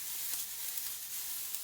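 Onions sauté in a pan over moderate heat, kept moving so they soften without browning, giving a steady, close sizzling hiss with no talk.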